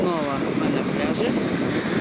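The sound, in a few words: wind on a beach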